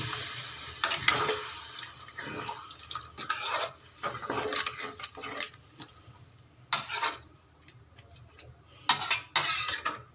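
Boiled chickpea water poured into a pan while cooking chole, heard as irregular splashing bursts mixed with clinks of utensils against the pan, moderately close with quiet gaps between pours.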